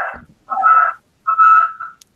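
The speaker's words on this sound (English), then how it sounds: "That was my phone." A mobile phone rings in a few short melodic bursts, a tonal chime repeating with brief gaps, fairly close and clear with no talk over it.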